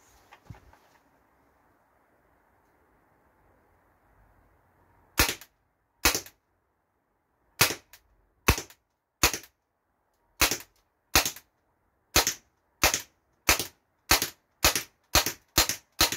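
Umarex HK416 A5 airsoft rifle firing BBs: about fifteen sharp, loud cracks in an uneven, quickening series, alone with no talk, following several seconds of near silence.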